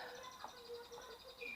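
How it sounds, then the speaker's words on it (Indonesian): Murai batu, or white-rumped shama, gives a quick run of thin, bright chirps and short whistled notes, fairly faint against a hissy room background, with a louder whistled phrase near the end. "murai batu ini"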